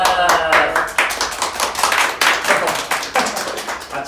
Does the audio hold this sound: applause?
yes